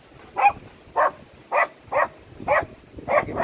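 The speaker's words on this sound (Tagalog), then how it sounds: "shout out Doggy. Mga aso namin eh" Household dogs barking outdoors after a typhoon, six evenly spaced barks about half a second apart, fairly close and clear.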